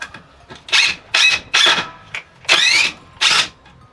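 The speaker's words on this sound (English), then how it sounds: "if I didn't drive a few screws or drill a few holes with it" A DeWalt DCK266P2 cordless impact drill driving screws fires in six short bursts of rapid hammering whir, each lasting about half a second with brief gaps between, loud and close.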